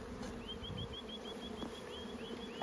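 Honey bees buzzing faintly in a continuous hum around their hive boxes, with a quiet background drone and a few soft clicks.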